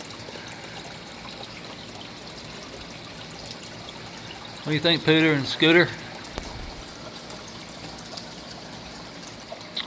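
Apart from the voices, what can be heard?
adding water to an indoor ecosystem garden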